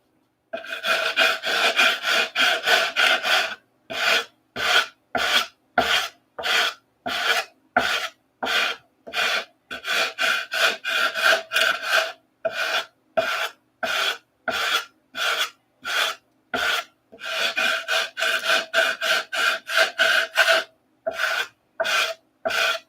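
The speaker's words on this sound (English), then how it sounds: "Need to sand on this side some more." An aircraft part being sanded by hand in a hangar, rapid rhythmic rasping strokes in quick bursts with brief pauses between runs, close and steady.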